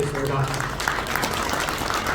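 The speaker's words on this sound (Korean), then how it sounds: "다시 한번 뜨거운 박수 부탁드리겠습니다" An audience at a breakfast seminar forum claps steadily for a speaker. A voice is briefly heard at the very start, then dense, moderately loud applause fills the rest of the short stretch.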